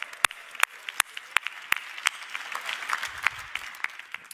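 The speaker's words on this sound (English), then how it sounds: "give these folks a round of applause." A church congregation at a Sunday service breaks into a round of applause, with sharp, loud claps standing out over a dense patter of clapping from the room.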